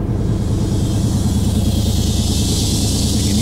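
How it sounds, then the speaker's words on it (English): A Chevy engine runs loud and close with a steady low rumble, bogging down slightly under the load of an on-board air compressor. "You'll hear the engine bog down just a bit."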